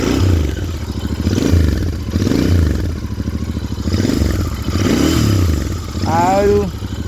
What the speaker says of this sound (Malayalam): ആ ഒരു ചൂളടി സൗണ്ട് വരുന്നത് അത് നമ്മുടെ എഞ്ചിൻ്റെ അകത്തുനിന്നാണ് കേട്ടോ